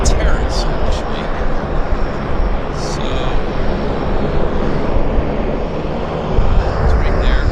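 A WestJet Q400 turboprop airliner turning onto the active runway at Vancouver airport drones steadily at a moderate distance, with a person talking over the engine noise.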